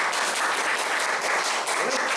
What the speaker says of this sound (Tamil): கைத்தட்டுகிறது.